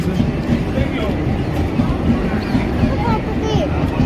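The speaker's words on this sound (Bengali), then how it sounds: "ট্রেন আসছে রেডি" A train rumbles and clatters steadily nearby as it arrives at a railway station, while several people talk and call out over the noise.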